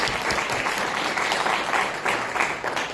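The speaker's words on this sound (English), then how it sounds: "If we can just give them a round of applause for their time." Brief, dense applause from an audience at a Senate District 21 candidate forum, a steady wash of clapping for a few seconds.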